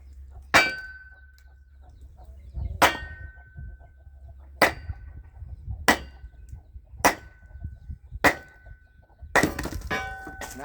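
Wood being split on a Kindling Cracker King kindling splitter, with a series of sharp metallic clangs from repeated taps spaced about a second apart and faint cracking between them, close and moderately loud.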